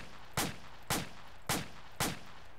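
An M16A4 rifle in ARMA 2 fires four evenly spaced single shots, each a sharp loud crack with a short decaying tail, about half a second apart.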